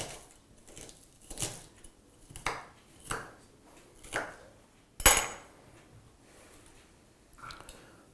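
Knife chopping onion into small pieces during Moroccan tagine preparation, heard as a series of sharp, separate cuts about once a second, one louder strike near the middle, close and clear with no talking.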